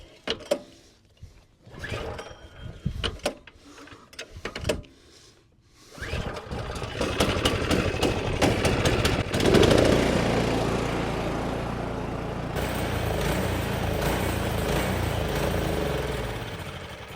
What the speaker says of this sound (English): Now I'm going to start it up and run it dry.